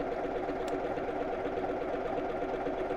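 A computerized sewing machine stitches a buttonhole with a steady, even mechanical whirr that holds at one level throughout, close by, with no talking.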